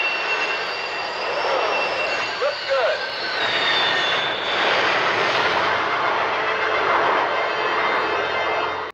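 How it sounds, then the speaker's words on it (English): Jet aircraft engines roar steadily across a carrier deck as a plane lands in a 1980 war film, a continuous loud whine with rising and falling pitch and faint voices mixed in. "The ship is in the process of landing jets on the deck"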